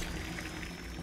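Water running steadily into a basin in the horror video game Visage, a quiet continuous pouring rush with no break.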